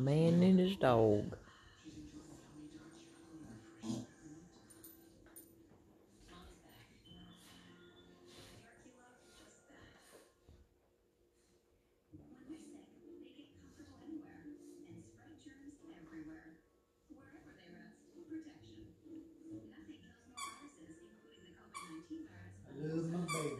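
A dog whimpers and yips in high, wavering bursts, loudest at the start and again at the end, with quieter stretches of low room noise between.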